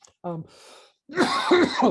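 A person coughs, starting with a short voiced catch and breath, then a harsh, rough cough sequence close to the microphone.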